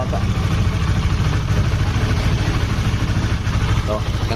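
A motorcycle engine idles close by with a soft, steady exhaust burble, an even low rumble throughout while people talk over it.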